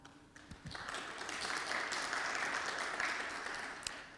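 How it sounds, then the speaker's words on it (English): A conference audience at a PostgreSQL talk applauds to welcome a speaker to the stage, the clapping swelling quickly into a dense, sustained round that holds steady to the end. "let's welcome Peter to the stage with a round of applause"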